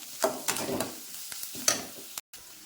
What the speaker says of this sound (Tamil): இந்த மாதிரி போட்டு நல்லா வதக்கி விட்டுக்கலாம்